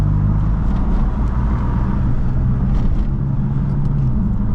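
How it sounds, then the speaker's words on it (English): A BMW F82 M4 Competition fitted with an M Performance exhaust, otherwise stock, gives a loud, continuous low rumble that stays close and steady throughout, with no talking. "it definitely sounds good. It has the M Performance exhaust, but everything is stock."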